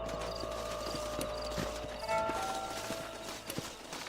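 Horse hooves clip-clopping on ground in the Western video game Red Dead Redemption, a steady walking rhythm of hoofbeats over a constant background hum, moderately near with no talk.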